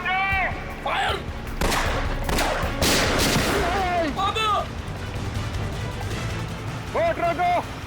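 Gunfire in a TV crime drama shootout at sea, with bursts of shots and crashing impacts spread across the scene under loud score. Voices shout in between the shots.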